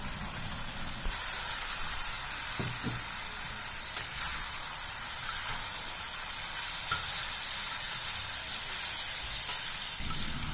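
Chicken pieces sizzle in a pan of softened onions for a chicken fry, a steady bright frying hiss with faint clinks of stirring, close and alone, with no talk.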